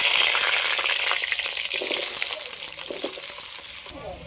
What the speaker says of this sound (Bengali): এবার আলুগুলো একটু আগে ভেজে নেব।